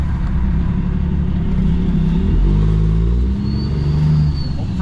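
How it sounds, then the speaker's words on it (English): Highway traffic passing at about 110, heard from inside a truck cab: a steady loud road roar with a rising rumble as vehicles pass close by. "Traffic flying by here at 110."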